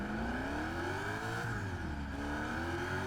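A Koenigsegg engine in Test Drive Unlimited Platinum gives off a steady, loud whooshing drone, its pitch climbing gradually, dipping briefly, then rising again with no one talking over it.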